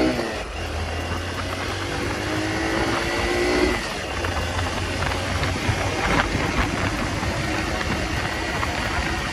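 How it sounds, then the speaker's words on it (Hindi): A 2023 Hero Super Splendor 125 cc commuter motorcycle carrying two riders pulls away, its engine rising briefly in pitch before settling into a steady drone under heavy road and wind noise. "दो लोगों के साथ ये बाइक को मैं चला रहा हूँ"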